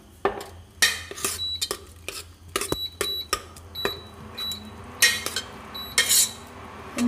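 A cooking pot goes back onto the stove in a home kitchen, bringing a quick series of sharp metallic clanks, clinks and scrapes of cookware, close by and irregular, in an otherwise quiet room.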